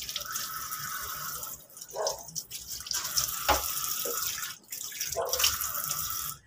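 A running sink tap streams and splashes steadily as a leaking soy sauce container is rinsed under it, close and continuous with brief dips and gurgles.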